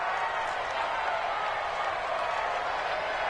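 A football stadium crowd roars in a dense, continuous wash of cheering with no breaks, steady and loud throughout.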